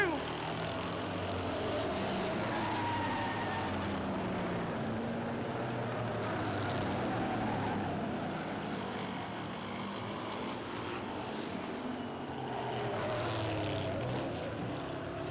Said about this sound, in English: Dave Doucette again pulls away a little bit out of corner 2